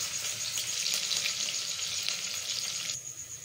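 Onion and nigella seeds crackle and sizzle in hot oil, loud and close, then drop to a quieter hiss near the end, with no talking.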